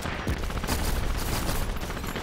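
Grenades going off in a competitive shooter match, a continuous rumble of blasts and scattered gunfire, loud and dense throughout with no talk over it.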